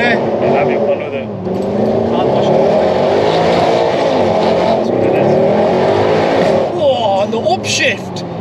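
A Mercedes C63 AMG engine revs hard in neutral, a loud rising and falling V8 roar close by that stays nearly continuous, with faint voices underneath near the end.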